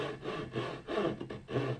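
A hand saw works slowly down a marked line in wood, cutting a tenon for a mortise and tenon joint; a few broad, rasping strokes rise and fall in an uneven rhythm, close and fairly quiet.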